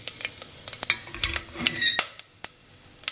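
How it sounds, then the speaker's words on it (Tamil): Cinnamon, fennel, cloves, cardamom and a bay leaf hit hot oil for chicken biryani, crackling in quick sharp pops and bursts of sizzle over about three seconds, close up with no talking. "நான் இந்த எடுத்து வச்சுருக்கிற பட்டை, சோம்பு, கிராம்பு, ஏலக்காய் எல்லாத்தையும் போடுறேன்."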